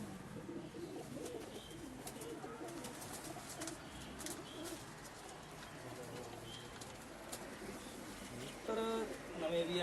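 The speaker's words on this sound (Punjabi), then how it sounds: "ਮੇਰੇ ਖੁੱਡੇ ਦੇ ਵਿੱਚ ਕਬੂਤਰ" Pigeons coo softly and continuously in the background from a loft, layered with scattered chirps and a dull ambient murmur, somewhat distant.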